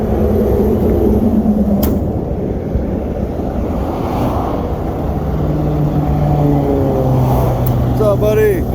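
A Volvo VNL semi truck engine idles with a steady low drone, buffeted by heavy outdoor wind noise, with voices faintly in the background.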